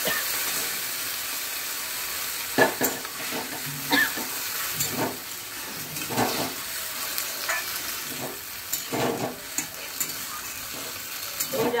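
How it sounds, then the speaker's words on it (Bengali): Ginger and vegetables fry in a pan with a steady hiss and sizzle, broken by repeated scraping and clattering stir strokes at irregular intervals. "আদাটাকে একটু হালকা করে ভাজতে হবে, এবার আমি এই সবজিগুলো সব এগিয়ে দেব।"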